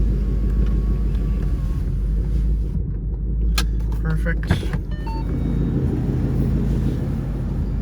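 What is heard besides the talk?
car engine running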